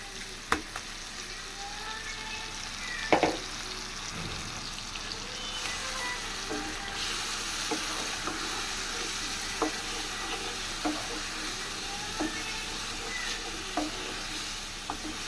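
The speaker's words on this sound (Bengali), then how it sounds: "এটাকে একদম ভাজা ভাজা করে তারপরে নামাই নিব" Chopped banana flower frying with shrimp and onion in a pan, a steady close sizzle with occasional sharp clinks of a stirring utensil against the pan, with no talking.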